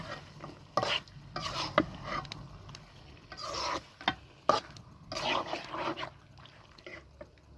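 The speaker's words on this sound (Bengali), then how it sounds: "খাসির মাংসটা আমি এই মশলার মধ্যে দিয়ে দেব, দিয়ে নাইরা সেটা ভালো করে কষাইয়া রান্না করব" Goat meat being stirred into spice masala in a pot, a series of irregular scraping and sizzling bursts as the spoon works the meat, quiet between strokes, with a dog audible.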